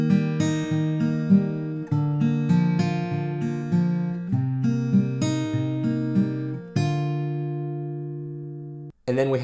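Acoustic guitar fingerpicked in a steady pattern, pinching the fifth and second strings together, ringing out clearly alone in steady plucked notes and chords, with a brief pause and a final strum near the end.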